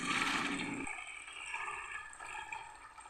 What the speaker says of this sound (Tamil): இதை இருத்து இதில் ஊற்றிக்குவோம்.